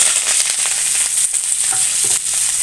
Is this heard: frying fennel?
yes